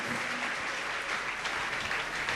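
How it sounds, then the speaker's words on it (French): A church congregation claps during a worship service, a dense, continuous wash of applause from many hands, steady and fairly loud, with a faint voice underneath. "Applaudissez pour Jésus-Christ"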